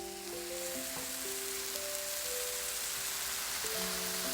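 Oil sizzling in a frying pan previously used to stir-fry beef, a steady, soft hiss with faint crackle and some clear tones lingering underneath.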